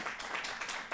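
A room of people applauds at an Asian Americans, Native Hawaiians, and Pacific Islanders advisory commission event, giving steady, dense clapping that swells in brief bursts for the full second with no voices over it.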